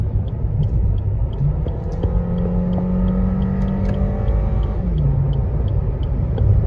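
A Suzuki Ertiga with a 103-horsepower engine accelerates on a highway, heard from inside as a steady low engine drone and road rumble with a rising tonal whine, loud and continuous and with no talking.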